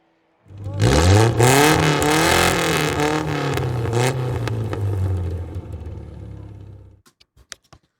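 Ray FF1600 race car engine accelerating in the iRacing sim, a loud rising rev that climbs through several gear changes, holds a high drone, then cuts off abruptly, followed by a few faint clicks.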